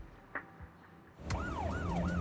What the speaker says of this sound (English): a pubset car hurtles down the street, siren blaring